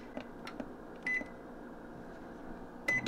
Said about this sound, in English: Then you want to put it in the microwave until it's boiling.